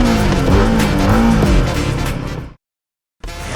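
A Royal Enfield Guerrilla 450 roars close and loud on a test ride, engine revving hard for a couple of seconds before a sudden cut to silence, then resuming.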